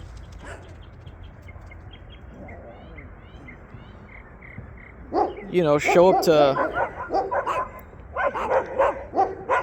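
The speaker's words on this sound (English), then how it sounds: "dogs are going crazy" Dogs barking in a quiet outdoor setting, faint distant yips at first, then a burst of loud, close barking and whimpering, overlapping a voice talking.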